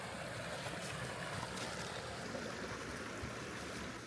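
A creek flows steadily in a wild outdoor setting, a constant soft rushing and gurgling of water heard up close with no voices.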